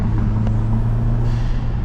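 An Alfa Romeo Giulia QV's engine and exhaust idle in a deep, steady, throaty rumble, close and loud for about two seconds without any break.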